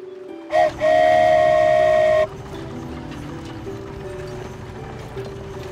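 A toy train in an animated adventure sounds a bright steam whistle in two blasts, a short one then a sustained one, followed by a low rumbling ride.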